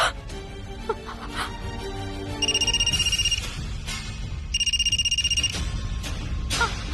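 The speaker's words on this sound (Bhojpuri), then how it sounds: "विजय भाई के फोन बा।" A phone ringtone plays twice in repeated electronic trilling bursts, separated by a short gap, over a faint background of ambient music.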